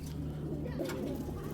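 Low, throaty cooing from a breeding pair of large, light-coloured racing pigeons, soft and continuous over a steady background hum, with no talking.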